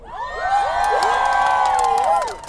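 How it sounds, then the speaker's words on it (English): Crowd cheering and whooping at a Stand Up for Science rally in San Francisco, a loud burst of many voices shouting together that swells and holds for a couple of seconds before fading. "now give me a cheer if you're any immigrant scientists here"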